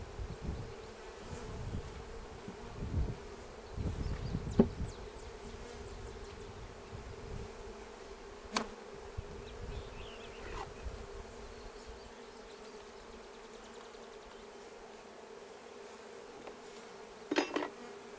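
Honey bees from an open hive colony buzz continuously at close range, a steady hum with occasional louder passes and faint clicks of hive equipment.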